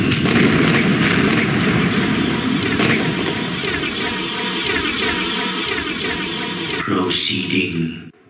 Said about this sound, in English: We are receiving hostile fire.